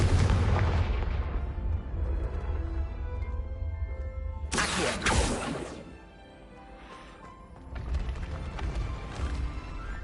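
The Confringo explosive spell in the video game Hogwarts Legacy bursts with a loud rumbling boom and a sharp crackling blast, followed by a fading low tail and further rumbling.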